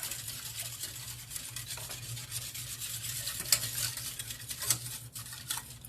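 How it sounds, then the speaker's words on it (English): A flat whisk stirs lemon meringue pie filling in a pan on the burner, giving a steady low scraping and swishing with a soft sizzle underneath and a couple of sharper clinks against the pan. "So you want to keep stirring."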